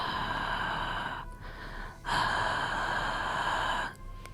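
A voice imitates loud, heavy breathing from the other side of a door: two long, harsh, drawn-out breaths separated by a brief pause, close and alone.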